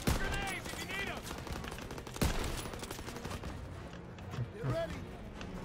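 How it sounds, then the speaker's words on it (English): Rapid gunfire and machine-gun bursts in a Call of Duty WWII battle, dense overlapping shots with a heavy blast near the middle, under urgent shouted voices. "Come on, they need cover fire! Suppressive fire! Keep firing!"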